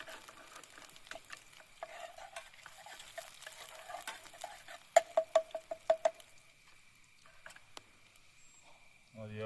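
Onions browning in a mix of oil and ghee at a forest rain campsite: a faint, steady frying hiss broken by scraping stirs and a short run of sharp spoon taps, with a voice speaking in the background.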